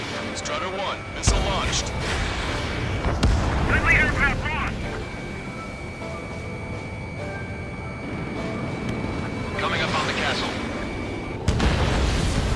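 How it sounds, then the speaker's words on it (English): Bombing explosions in the Ace Combat 7 combat flight game, heavy booms and crashes over a continuous rumble and warning tones, with radio voices talking throughout. "They're bombing us."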